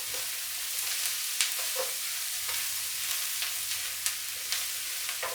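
Bacon and onion frying in a pan, a steady broadband sizzle with occasional scrape-and-clack accents from stirring, close and moderately loud, no voices.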